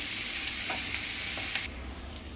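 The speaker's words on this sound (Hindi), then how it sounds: "इसमें मैं प्याज डाल रही हूँ। प्याज को मैं 2-3 मिनट भून लूंगी।" Onions frying in a pan for a spicy okra (bhindi) kadhi, giving a dense, steady hiss of sizzling oil with a few light stirring clicks; the sizzle drops back noticeably partway through.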